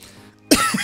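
A single sharp, loud cough breaks out abruptly after a quiet lead-in, close to the microphone, with a second smaller burst just after.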